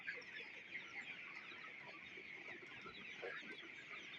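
Chickens cluck steadily in a dense, continuous flock chatter, moderately loud, with no talking over it.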